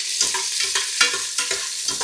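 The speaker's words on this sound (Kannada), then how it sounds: "ಇದಕ್ಕೆ ನಾನೀಗ ಈರುಳ್ಳಿ ಹಾಕೋತಾ ಇದ್ದೀನಿ." Chopped onions fry in a hot pan under a loud, bright, continuous sizzle, with regular scraping strokes of stirring every quarter second or so, up close and without voices.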